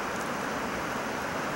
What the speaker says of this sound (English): It'll be raining the whole time we're here.